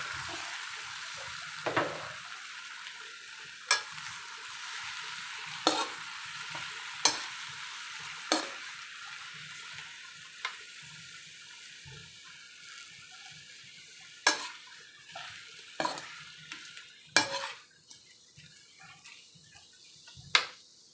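Shrimp frying in a pan, a steady close sizzle broken by sharp clacks and scrapes of a utensil moving the pieces around, with occasional louder knocks, no voices.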